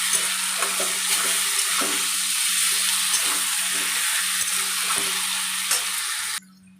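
Ground spice paste for rohu fish curry with potato and pointed gourd frying in oil, a dense continuous sizzle with soft scraping stirs, close, cutting off abruptly near the end.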